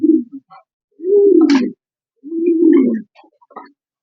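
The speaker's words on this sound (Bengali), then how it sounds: "এই দেখেন কবুতর সব খাবার খাওয়ার জন্য প্রস্তুত" Racing pigeons coo in two long, throaty bursts separated by short pauses, with a few fainter soft calls around them; close and fairly loud, no talk.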